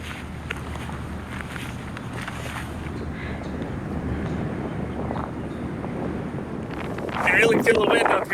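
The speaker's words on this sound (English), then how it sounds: "feel the wind up here" Wind gusting across an exposed rocky hilltop in the Burren, County Clare, a steady rushing buffet on the microphone that swells louder near the end, with a person talking over it.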